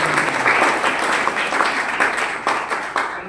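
An audience at a motivational talk applauds, a dense, continuous wash of many hands clapping that stays loud throughout with only slight dips, with no speech.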